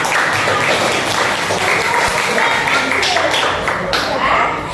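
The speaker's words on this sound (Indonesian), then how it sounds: "Tepuk tangan." A class of junior high school students claps together during an open teaching lesson in Brebes, giving a dense, steady burst of applause for about five seconds with some voices mixed in.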